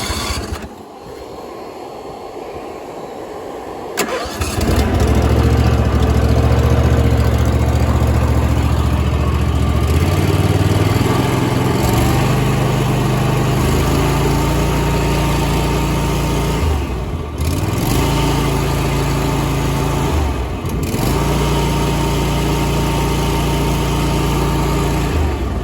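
A small engine running on choke catches after a few seconds of quiet rustling, then idles loudly and steadily with a rough, low drone that shifts pitch slightly and dips a couple of times.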